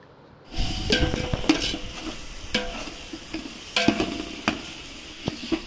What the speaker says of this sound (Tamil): கட் பண்ணி வச்சிருக்கிற புதினாவை போட்டு கொஞ்சம் வதக்கிக்கலாம்